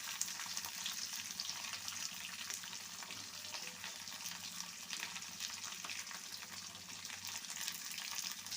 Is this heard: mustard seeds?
yes